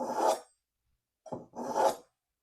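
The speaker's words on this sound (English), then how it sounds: "I can literally hear the knife ring as it's being sharpened" Two slow raspy strokes of a knife pulled back through a handheld sharpener held on a table, each a grinding scrape with a bright metallic ring, separated by a pause.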